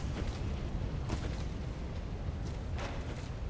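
Muffled explosion rumble in the video game Dark Souls 3, a steady low roar with a few soft bursts, fairly quiet and continuous throughout.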